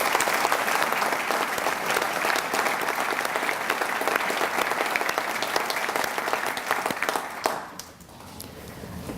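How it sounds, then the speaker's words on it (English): Sustained applause from an audience at a city State of the City address fills the room, dense and even before tapering off near the end. "Please give them a round of applause."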